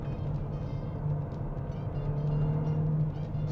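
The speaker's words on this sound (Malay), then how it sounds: "Second gear dia upshift sendiri masuk third." A Proton S70 engine hums steadily from inside the cabin at low pitch, its tone shifting slightly as the automatic gearbox moves up from second to third, with no talking.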